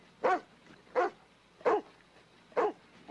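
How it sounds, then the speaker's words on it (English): A dog barks at a car, with four or five short, evenly spaced barks that ring out loud and clear with brief pauses between them. "What a goofy dog. Get off the car."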